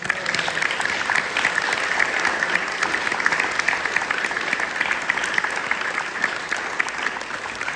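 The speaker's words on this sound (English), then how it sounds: "One more big round of applause for all our films." A film competition audience applauds the prize-winning short films with steady, dense clapping that fills the room without a break.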